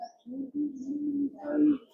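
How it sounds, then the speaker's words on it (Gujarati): White pigeons kept in a cow shelter coo in low, soft, continuous murmurs, fairly close, with brief pauses and a slightly louder swell near the end. "ગૌશાળામાં પક્ષીઓને પણ રાખવામાં આવ્યા છે. સફેદ કબૂતર જુઓ"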